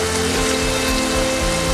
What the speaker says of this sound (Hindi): हम इसे लाइट गोल्डन ब्राउन होने तक फ्राई कर लेंगे।